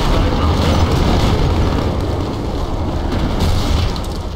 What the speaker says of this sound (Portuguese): Vou jogar a granada lá, que vai ter gente lá.